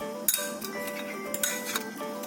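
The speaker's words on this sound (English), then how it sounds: "Take 1 spoon of boiled water and then mix it well." A spoon clinks and scrapes against a bowl while mixing instant coffee with boiled water for dalgona coffee, in a quick, irregular rhythm, close by with no voices.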